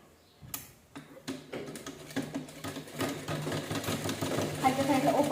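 A sewing machine stitches the side seam of a cloth bag, opening with separate ticks that speed into a steady, rising mechanical whir, while someone talks over it.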